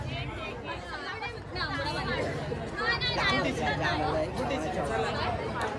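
Dense crowd chatter at the Gudi Padwa Shobha Yatra procession in Girgaon, a continuous near babble of many overlapping voices, with individual people talking close by.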